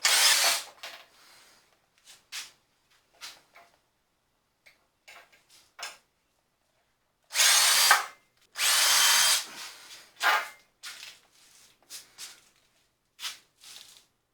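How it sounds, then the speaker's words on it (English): A power drill drills out rivets on a Champion blower and forge, whirring in short bursts and a few longer grinding runs, separated by quiet gaps and small clicks, close by. "First I got to drill out the rivets right here."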